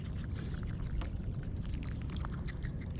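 Fresh water pours for animals on a morning walk, a steady close splashing and gurgling stream with a low rumbling undertone throughout.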